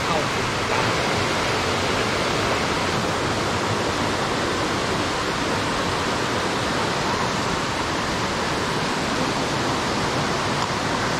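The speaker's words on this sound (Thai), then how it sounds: "เราก็มาถึงอย่างน้ำตกกันแล้วครับซึ่งเป็นน้ำตกที่เราจะผ่านครับ" A waterfall on a mountain trail at Doi Luang Mae Lamao in Thailand gives a close, unbroken rushing roar that holds at the same level from start to finish.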